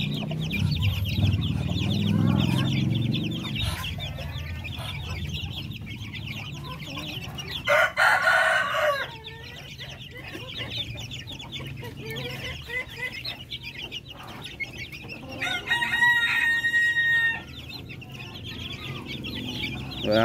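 Darag native chickens in a backyard farm, clucking steadily with loud rooster crows breaking in, close by and continuous over a busy rural background.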